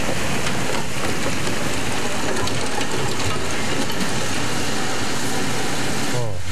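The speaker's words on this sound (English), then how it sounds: "Days of heavy rain causing major problems in parts of Japan." Heavy rain pours down in Japan, a dense, loud, unbroken hiss of water falling on surfaces, steady from start to finish with a brief rumble just before the end.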